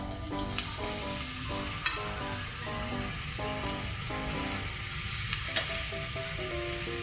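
Curry paste and coconut cream stir-fry over medium-low heat, giving a steady dense sizzle and crackle throughout, with occasional faint clicks of a utensil against the pan.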